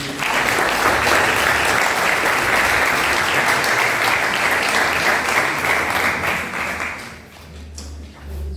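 Audience applauding a student contestant at a pleading contest in Lyon, dense steady clapping lasting about seven seconds before dying away, followed by a quieter pause.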